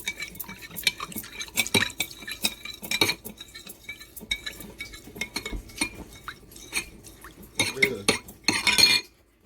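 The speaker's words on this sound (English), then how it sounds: "Keep stirring" A spoon stirring a Jell-O fresh fruit dessert mixture in a bowl, with irregular clinks and scrapes of utensil against the dish and a burst of quicker clattering near the end.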